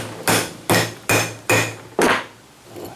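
Four sharp metal hammer blows on the lock nut of a mower wheel, evenly spaced and close, with each ring decaying before the next, followed by a softer fifth tap.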